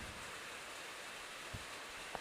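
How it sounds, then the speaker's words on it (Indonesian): Heavy rain pours steadily as a quiet, even wash of broadband noise, fairly faint, with a couple of brief knocks near the end and no talk. "di sini hujan gede banget"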